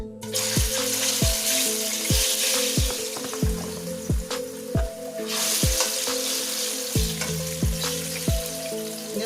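Plantain slices sizzle and crackle steadily in hot frying oil, with a run of sharp, regular knocks and clinks of a utensil against the pan close by, and no talk.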